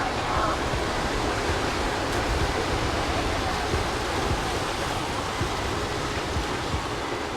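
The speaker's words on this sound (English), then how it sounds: "the waves are a little bit rougher on this side. This is because this is the ocean side." Rough ocean surf breaks along the Ponce Inlet jetty on the Florida coast, a continuous broadband wash of waves with no distinct individual crashes and no voices.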